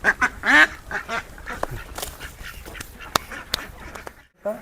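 Ducks at a government duck farm in Maharashtra quack in a few loud nasal bursts near the start, followed by softer scattered calls and farmyard sounds.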